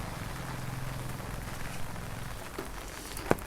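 Monsoon rain falls steadily in a Cauvery Delta village, a soft continuous hiss of drops on wet surfaces with a low background rumble and one brief sharp knock near the end.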